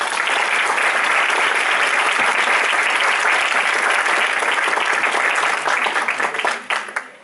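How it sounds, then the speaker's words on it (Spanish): Loud, sustained applause from a conference audience fills the hall for about seven seconds, dense and steady, then thins and tapers off at the end. "pido un fuerte aplauso para ella"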